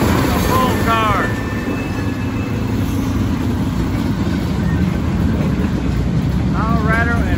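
Fully loaded coal train car rolling by on the rails, a heavy continuous close rumble with squealing wheels at the start and end.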